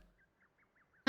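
Five short, faint duck quacks from birds in Zelda: Tears of the Kingdom, evenly spaced, followed by a loud abrupt burst at the end.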